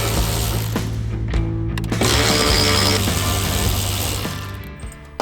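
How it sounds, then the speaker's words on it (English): Power driver with a T40 Torx bit removing the bolts holding the tie-down end on a Super Duty truck bed bulkhead: a loud, continuous whirring motor with ratcheting clicks close up, easing off toward the end, with no talk. "using our T40 TORX, we're gonna remove the 2 bolts that are holding the tie-down end"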